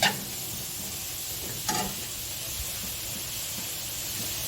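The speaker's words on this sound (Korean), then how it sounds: "자, 버섯이 젖어 있는 상태니까 버섯 넣을게요" Wet, lightly blanched oyster mushrooms sizzle in a spoonful of cooking oil in a pan, a steady close hiss throughout with one brief louder spit near the start.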